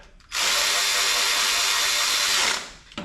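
Snap-on 1/4 inch electric ratchet running a PT Cruiser valve cover bolt snug, a single loud, close motorized buzz lasting about two seconds before winding down, with no talk over it.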